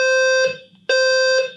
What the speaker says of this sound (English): literal fire alarm just went off in my building